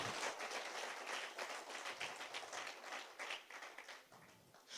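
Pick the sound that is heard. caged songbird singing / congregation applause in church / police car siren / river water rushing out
congregation applause in church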